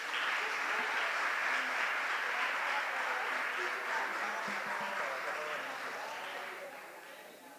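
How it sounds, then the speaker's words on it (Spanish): An audience at a journalism conference on arts and culture coverage bursts into sustained applause during an award presentation, a dense even wash of clapping that stays strong and then gradually tapers off. "Fuerte los aplausos, por favor."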